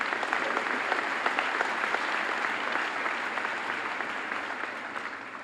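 Dense, steady applause from a large graduation audience at Midland High School fills the whole stretch, loud and sustained with no talk over it.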